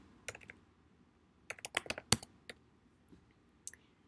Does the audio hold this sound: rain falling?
no